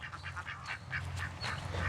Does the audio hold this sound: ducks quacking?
yes